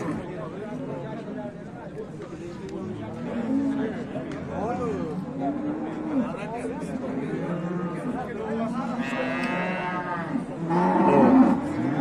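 A Russian breed cow lows repeatedly at a livestock market, long drawn-out moos rising and falling over several seconds amid nearby people talking and market chatter.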